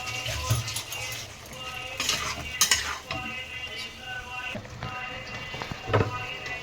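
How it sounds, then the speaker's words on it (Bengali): Chili and cumin sauté in a curry pan, with a steady sizzle under repeated scraping and stirring of a utensil against the metal, and occasional clinks of cookware. "দেখো এগুলো দিয়ে একটু কষিয়ে নেব, জিরাগুলো বেরিয়ে গেল, এটা কষতে থাকুক"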